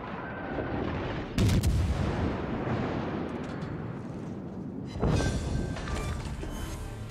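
Warship guns fire in the naval combat game World of Warships, two heavy booming salvos a few seconds apart, each followed by a long rumbling decay under steady game ambience.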